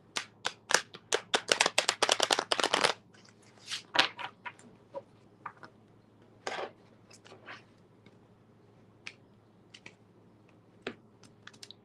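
Tarot cards are shuffled by hand: a quick run of crisp, riffling flicks up close, then slower scattered taps and slides as the deck is handled, with no voices.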